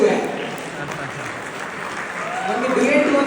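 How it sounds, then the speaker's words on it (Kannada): An audience applauds a male singer after a Kannada duet on stage, a steady dense wash of clapping that swells slightly toward the end. "ಜೋರಾದ ಚಪ್ಪಾಳೆ ನಮ್ಮ ಮೇಲ್ ಸಿಂಗರ್ಗೂ"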